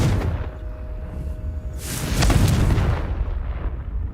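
A Confringo spell explodes in the Hogwarts Legacy video game, a loud fiery boom that bursts midway through a rumbling bed of game noise and then fades.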